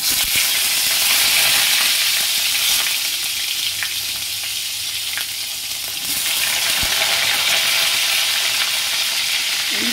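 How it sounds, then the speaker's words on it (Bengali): Potatoes frying lightly in a pan, a constant close sizzle with occasional stirring scrapes, steady and loud throughout without talk. "এইভাবে মোটামুটি হালকা ভেজে দেবো আলুগুলো, বেশি লাল করে ভাজবো না"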